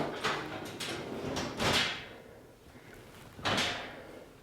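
Metal drawer on a Dewalt two-shelf industrial storage rack work station sliding open and shut, several quick rolling swishes with a louder bump near the end, close and clear with no talking.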